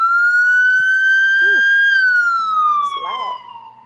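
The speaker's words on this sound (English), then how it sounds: "Sorry about the siren, y'all." Loud, close police or emergency vehicle siren on a Buffalo street near the Jefferson Ave Tops, a long steady wail that slowly falls in pitch as it passes, with brief voice-like chirps over it.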